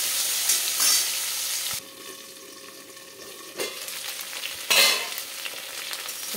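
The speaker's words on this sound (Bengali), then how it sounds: "ভাজা ভাজা করে নিচ্ছি।" Potatoes fry in oil, keeping up a continuous close sizzle that drops in level partway through and swells again, with brief stirring noises and no voices.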